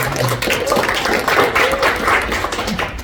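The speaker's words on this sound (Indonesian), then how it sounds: "Tepuk tangan buat kita." A church congregation at a Sunday service applauds steadily for about three seconds, a dense, continuous patter of many hands with some voices mixed in.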